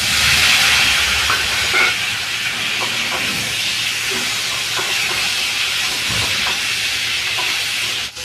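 Tomato pieces hit a hot pan while cooking a rohu fish curry with taro, giving a loud, continuous close sizzling hiss with occasional light spatter throughout.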